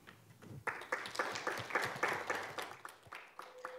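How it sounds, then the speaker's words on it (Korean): An audience claps to welcome the vice president of a Korean UN youth association to the stage at a session on Korean Peninsula peace and the SDGs. The applause starts at once and stays moderate, with individual claps standing out, and no one speaks. "큰 박수로 맞이해 주시기 바랍니다."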